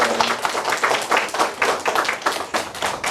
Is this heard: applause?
yes